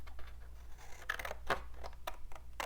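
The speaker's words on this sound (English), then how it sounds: "I'm just going to take my scissors and cut it off right here" Scissors snip through paper while a 6x6 spring mini album is being made. Several crisp cuts come close together over a low steady hum, with no talking.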